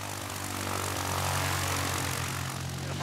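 Steady drone of a small propeller aeroplane engine at an airport, heard from inside the cabin as a continuous loud hum with strong low harmonics, no talk over it.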